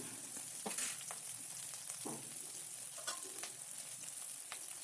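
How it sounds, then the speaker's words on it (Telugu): Cumin and mustard seeds with onion and green chili fry in hot oil for a red lentil and tomato dish, giving a steady, close crackling sizzle broken by occasional spoon clicks and stirs, with no talk. "ఇప్పుడు ఈ నూనెలో కొద్దిగా అంత జీలకర్ర ఆవాలు వేసేసి వేగిన తర్వాత కొద్దిగా ఉల్లి ఉల్లిపాయను ఈ పచ్చిమిర్చి ఏదైతే మనం కట్ చేసుకున్నామో అది వేసుకొని కలుపుకోవాలి"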